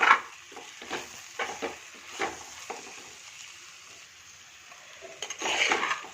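Dried curry leaves are stirred into a reducing curry in a pan: a series of separate scraping and clinking strokes with quiet gaps between them, then a busier burst of stirring near the end, with no talking.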